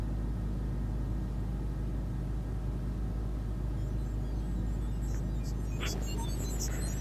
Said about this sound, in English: So that's the white noise.